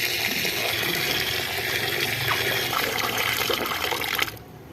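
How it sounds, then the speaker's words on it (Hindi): Water pours steadily into a tub of soaking lentils for haleem, a continuous close splashing fill that cuts off abruptly near the end. "अब इसमें हम और पानी शामिल करके इसको भिगो देंगे।"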